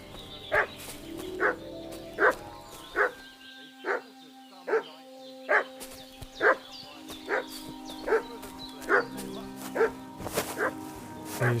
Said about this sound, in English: What's that dog making such a fuss about?